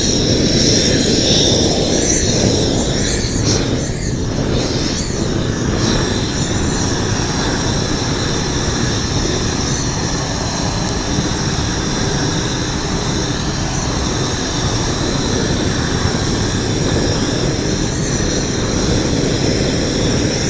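A weed burner's flame roars loudly inside a greenhouse, a steady, forceful rushing blast that holds for about twenty seconds, close and continuous with no talking over it.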